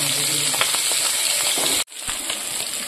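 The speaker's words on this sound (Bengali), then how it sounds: "এই যে মাছটা বসিয়ে দিয়েছি ভাজার জন্য, মাছটাকে লাল লাল করে ভেজে নেবে এপাশে পর" Fish fries in hot oil with a loud, close, constant sizzling hiss that briefly drops out and then resumes just as strongly.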